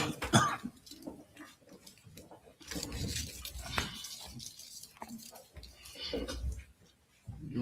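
A man with a bad cough coughs and clears his throat in a courtroom during a trial, several rough bursts mixed with murmured voices and shuffling nearby.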